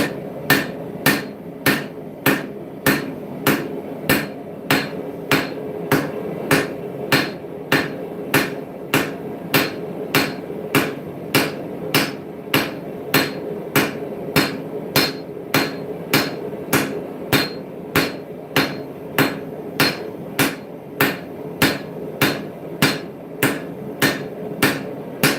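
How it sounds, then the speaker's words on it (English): Hammer striking hot steel while cross-peening a spear socket on an anvil, steady evenly spaced ringing blows, about one per second, loud and close with no talking. "So now I'm going to start cross-beaming out the socket."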